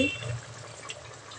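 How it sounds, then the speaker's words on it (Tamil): Water at a full boil in a cooking pot while making a quick rice dish, giving a steady low bubbling hiss with soft liquid churning, close by and fairly quiet, with no talk over it. "நல்லா கொதி வந்துட்டு"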